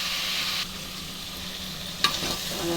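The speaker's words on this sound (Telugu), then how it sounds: "ఇక సొరకాయ ముక్కలు వేస్తున్నా. బాగా కలబెట్టాలి." Bottle gourd pieces fry in a pan and are stirred, giving a continuous sizzle with a sharp scrape of the utensil near the end, close and without talk.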